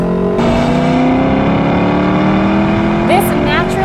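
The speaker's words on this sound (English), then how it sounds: "This naturally aspirated V8 is seriously a piece of art." Naturally aspirated V8 of a 2021 Lexus LC500 Convertible revving steadily and loudly up close, its engine note climbing through the clip with a brief rising whine near the end, and speech heard over it.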